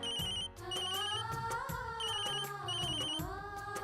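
A telephone rings repeatedly with a bright electronic ringtone, going unanswered, over a musical background score in an Indian TV drama scene; steady and loud throughout.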